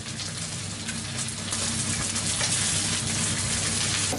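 Chicken thighs sear in oil in a hot pan, browning to golden, giving a close, continuous crackling sizzle that grows slightly fuller midway with no voices over it.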